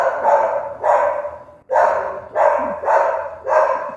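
A dog barks alone in a steady series of five or six loud, sharp barks, each spaced about half a second apart, close by with no voices.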